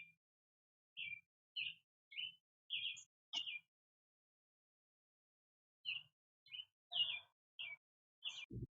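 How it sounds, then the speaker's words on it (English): Small birds chirp outdoors in the background: quick, bright calls in two bursts separated by a silent gap, fairly faint and distant, with no talk over them. "Birds in the background."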